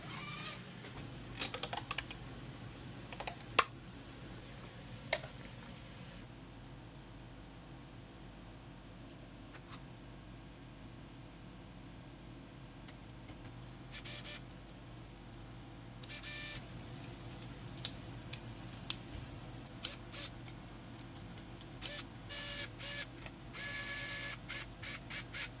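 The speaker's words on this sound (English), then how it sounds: "I'm printing this off on a Bambu Lab X2D" A Bambu Lab X2D 3D printer runs a print job, a faint steady mechanical hum broken by scattered clicks and short bursts of rapid tapping from moving parts.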